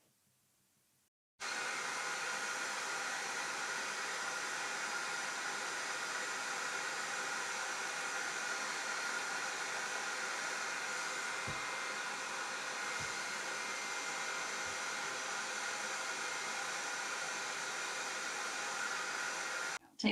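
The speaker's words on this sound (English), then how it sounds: "Let's put the hair dryer back on." A hair dryer blows steadily for about eighteen seconds, warming the glue on a snow globe indoors; a loud, even rushing hiss starts abruptly and runs alone with a few faint low bumps.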